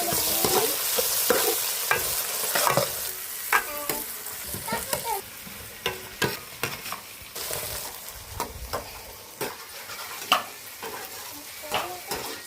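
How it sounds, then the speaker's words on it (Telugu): Onions and green chili paste fry and crackle in a pan while being stirred, with repeated scraping strokes and sharp clatters over a steady sizzle, close and busy throughout. "ఉల్లిపాయలు వేసుకోవాలి ఎర్రగడ్డ ఉల్లిపాయ అయితే వేస్తాను కదా పచ్చిమిర్చి పేస్ట్ కూడా వేసేసుకొని మొత్తం ఒకసారి కలిపి"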